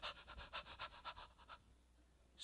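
A person mimics a dog's panting with rapid, rhythmic breathy huffs, about a dozen in quick succession, then trailing off into quiet.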